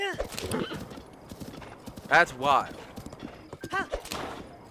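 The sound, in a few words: horse hooves galloping in the video game Breath of the Wild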